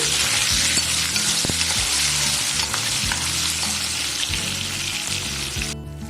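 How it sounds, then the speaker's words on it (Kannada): Onions fry in ghee for hotel-style bisibele bath, a loud, dense sizzle filling the whole stretch with stirring scrapes and clinks, cutting off abruptly near the end. "ಈಗ ಇದಕ್ಕೆ ಮೊದಲಿಗೆ ಈರುಳ್ಳಿನ ಚೆನ್ನಾಗಿ ಫ್ರೈ ಮಾಡ್ಕೊಳ್ಳಿ."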